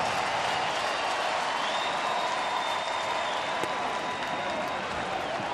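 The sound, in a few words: baseball crowd cheering Miguel Sano's two-run homer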